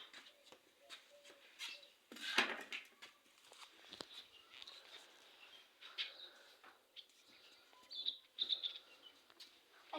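Sparrows gathering where bread is put out for them, giving faint, scattered chirps and short tweets at a distance, with soft patter and rustling between the calls in an otherwise quiet outdoor setting.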